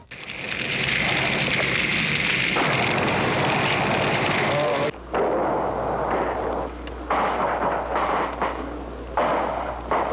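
Machine gun fire during a military exercise: a loud, dense, continuous roar of rapid shots, with a sharp break midway before firing resumes in choppier bursts.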